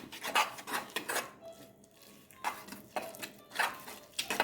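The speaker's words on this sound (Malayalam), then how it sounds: "അര നാരങ്ങ നീര് മതിയാവും നന്നായിട്ടൊന്ന് മിക്സ് ചെയ്യാം" Squid being tossed and mixed with half a lemon's juice in a bowl, giving a few close, soft scraping and clinking bursts with short pauses between them.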